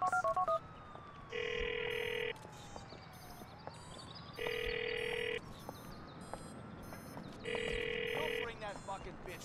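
A telephone rings in the video game Grand Theft Auto 4. Three clear ring bursts are separated by pauses, over low background game sounds.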